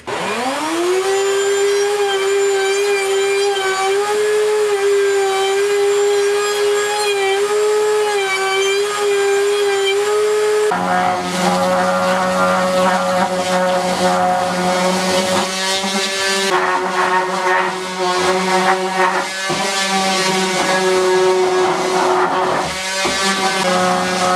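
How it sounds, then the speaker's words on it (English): A router fitted with a 3/8 inch round-over bit spins up to a steady, loud motor whine, then bites into the edges of wooden yard dice with a harsher, continuous cutting roar for the rest of the clip. No one speaks. "I'm going to take it over here onto the router and use a 3/8 inch round over bit and just round over every single edge."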